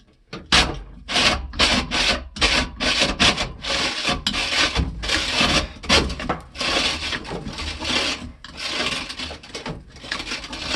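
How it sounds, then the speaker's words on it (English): A wrench works a jammed sink-mounted garbage disposal's impeller back and forth, producing repeated close scraping, rasping strokes in an uneven rhythm that runs continuously without any speech. "move the wrench back and forth to free the jam or to confirm that the impeller is free"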